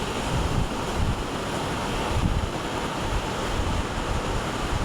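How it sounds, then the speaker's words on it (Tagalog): Ocean waves breaking on the shore with steady broadband surf and wind noise rumbling on the microphone, continuous and close, no talking. "Nahabol tayo ng alon."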